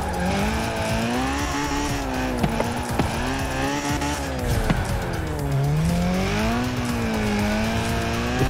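An old drift car in Forza Horizon 4 slides with loud, sustained tire squeal while its engine revs rise and fall, a close, continuous screech and whine with no talking.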